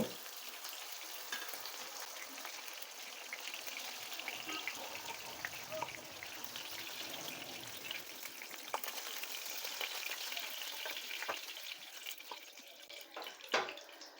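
Pabda fish frying in oil in a pan, a soft, steady crackling sizzle heard close and alone throughout, with a brief louder pop near the end.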